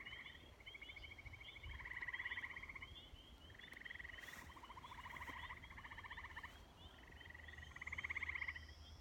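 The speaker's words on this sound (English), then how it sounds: "What you're mostly hearing is frogs." Frogs at a small pond croak in overlapping rhythmic trills, several calling at once in pulsing bursts that rise and fall, moderately distant against a quiet outdoor background.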